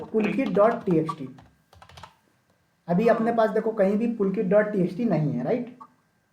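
Computer keyboard keys are typed in short bursts while a Linux touch command is entered, partly under a man's ongoing speech in a classroom-style lesson.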